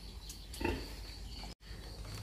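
Newborn piglets on a pig farm, heard as a brief soft grunt or squeal near the middle, over a steady background hum and a short dropout.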